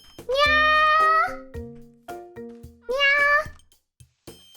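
Cat meowing in Minecraft, two long drawn-out meows a couple of seconds apart with shorter softer tones between them, clear and close, no talking.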